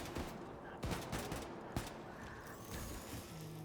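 Rapid bursts of gunfire from the video game Wolfenstein II: The New Colossus, several sharp shots cracking over a dense, continuous layer of game noise and ambience, loud and close throughout.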